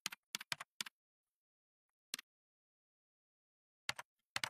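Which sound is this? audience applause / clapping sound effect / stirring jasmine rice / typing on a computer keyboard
typing on a computer keyboard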